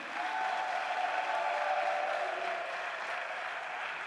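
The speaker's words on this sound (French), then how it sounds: "Acclame Jésus de Nazareth" A church congregation applauds during a worship service, a steady, dense patter of clapping that stays even and fairly distant throughout, with no clear voices above it.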